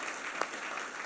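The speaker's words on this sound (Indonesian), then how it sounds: "Tepuk tangan dong kalau setuju" A church congregation claps in faint, scattered applause during a worship service, with one sharper clap standing out briefly.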